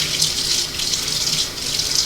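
Hot water pours steadily into a canning pot holding jars and lids for tomatoes, a continuous splashing gush that stays close and fairly loud with no voices.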